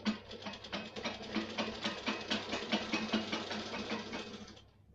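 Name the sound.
sewing machine running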